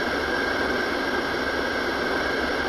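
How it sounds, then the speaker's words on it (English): Boeing 777-200ER jet engines in a full cockpit flight simulator during climb give a steady, loud broadband roar that holds even and unbroken throughout, with no voices. "You guys can hear more now the engines going a little louder."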